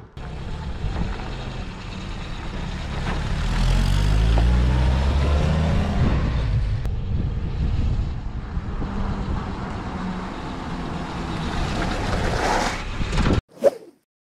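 A 1987 Jeep engine turns over and runs, building to a steady rumble that shifts in pitch as the vehicle moves off on a road test. The sound is fairly loud and close and ends with a sharp knock.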